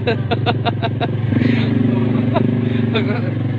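Motorcycle riding along a narrow one-lane mountain road, its engine droning steadily and loudly throughout with some rattling clatter, while people talk over it.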